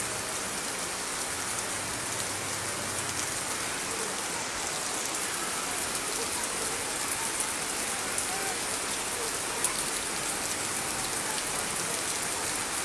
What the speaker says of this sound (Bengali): আবার বৃষ্টি তীব্রতা বাড়তেছে,